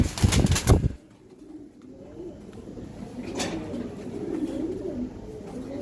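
Giribaz tournament pigeons, a black-necked breeding pair, coo softly and steadily at close range after an opening loud burst of flapping or handling.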